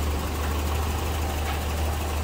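A 1985 Toyota Celica GT-S convertible with a fuel-injected 2.4-liter 22RE engine idles steadily, giving a close, even, low rumble that runs without change or talk.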